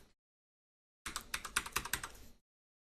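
Typing on a computer keyboard, close and fairly quiet: a faint tap at the start, a pause, then a quick burst of clicking keystrokes lasting over a second before silence.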